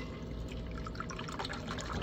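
A splash of simple syrup pours into a cocktail shaker with a soft, steady liquid trickle lasting a couple of seconds, faint and close.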